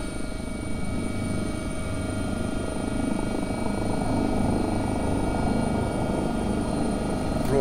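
Steady, continuous rotor thrum and turbine whine of an AgustaWestland AW-139 air ambulance helicopter in a flight simulator, constant and fairly loud throughout with no talking.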